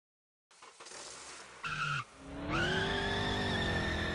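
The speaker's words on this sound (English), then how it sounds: "So that was how to set up the car sounds in Unreal Engine." Simulated car drifting in Unreal Engine 5: a screeching tire skid rises from a short burst into a sustained, loud squeal with a steady engine tone underneath, no voices.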